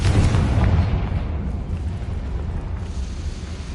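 A Confringo fire spell bursts in Hogwarts Legacy, a dense rumbling blast that rolls on and slowly fades over a few seconds, with no voices.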